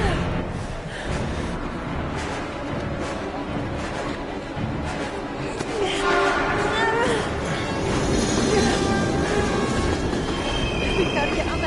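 A train rumbles and rattles in the video game Heavy Rain, a dense, continuous roar with squealing wheels and clatter, loud throughout, with breathy gasps mixed in.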